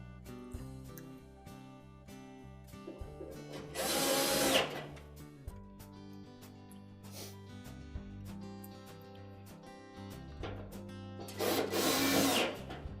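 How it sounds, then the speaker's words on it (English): Power screwdriver driving screws into the heater box of a Whirlpool dryer, two loud whirring bursts separated by quieter handling and clicks, close up with no talking. "Install those two screws, and then we're ready to put the back panel on."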